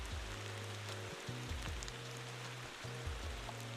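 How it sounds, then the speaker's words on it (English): Heavy rain hisses steadily as a broadband wash in the racing and driving game Motor Town, with a low engine hum stepping through gear changes beneath it. "Now, the rain is pretty heavy."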